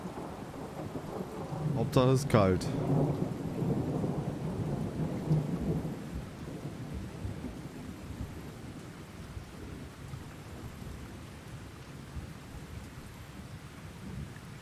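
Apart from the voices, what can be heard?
thunderstorm in video game Russian Fishing 4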